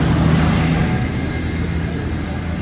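A steady, low tractor engine rumble runs throughout at a farmers' protest in London, loud and continuous, with a slight drop in level after the first second.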